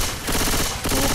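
Rapid automatic gunfire from the co-op zombie shooter Left 4 Dead 2 bursts out in a dense, loud volley, with a brief dip before a second stretch of shots.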